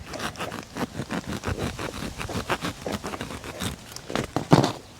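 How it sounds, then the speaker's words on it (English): A serrated hori-hori knife sawing into the roots of a mangave being divided, giving close, rapid scraping and crunching strokes in an uneven rhythm. "I'm just going to cut into those roots"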